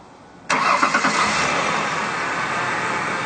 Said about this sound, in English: So I'm going to go start the car with these attached